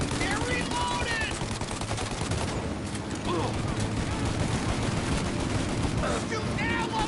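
Enemy gunfire crackles in a Mafia Definitive Edition shootout, with rapid automatic bursts and single shots under agitated shouting voices and a short lull in the middle.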